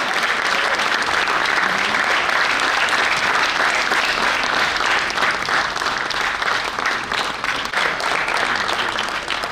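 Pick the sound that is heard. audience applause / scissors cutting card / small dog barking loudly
audience applause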